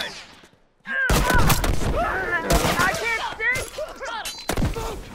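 Gunfire in The Last of Us Remastered multiplayer rings out in loud, close bursts of rapid shots that start abruptly after a brief quiet and continue with short pauses.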